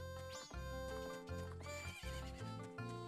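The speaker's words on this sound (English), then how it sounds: "I hear my horse, I don't see my horse." Epona, the horse in The Legend of Zelda: Majora's Mask, whinnies in a bright, rising neigh over looping game music, with hoof clip-clops nearby.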